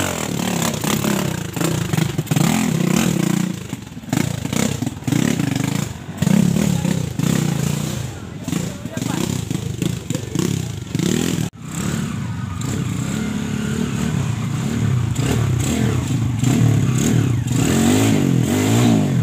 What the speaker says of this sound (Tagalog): Usa ka motor nito nabuak makina.